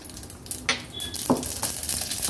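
Mustard seeds crackle in hot ghee while tempering for a traditional buttermilk kadhi, giving a few sharp, scattered pops and a light sizzle up close.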